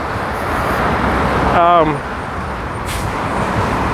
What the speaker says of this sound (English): Sorry about the noise. Traffic's super loud.